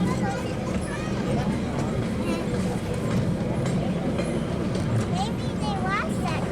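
Heritage train on the Tweetsie Railroad during a Day Out With Thomas event, a steady rumble and rattle of rolling cars throughout, with people talking and children's voices over it.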